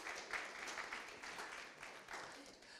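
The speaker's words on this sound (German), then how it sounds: "können wir nochmal klatschen zum Schluss" Applause from a conference audience at the opening of an extreme-weather congress, a steady, dense patter of many hands at moderate distance, fairly soft and even throughout with no voices over it.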